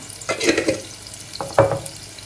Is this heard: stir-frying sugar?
yes